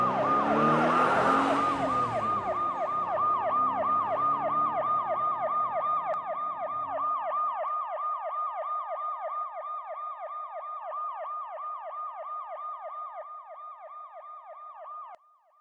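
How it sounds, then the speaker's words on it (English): A police squad car siren wails loudly and steadily in a repeating up-and-down cycle, with rumbling engine noise under the first few seconds, then the siren carries on alone for the rest before cutting off. "Hit the siren."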